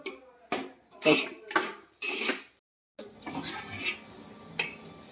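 Egg and cluster bean curry is stirred in a pan, with a series of close, sharp clinks and scrapes of a utensil against metal separated by brief pauses.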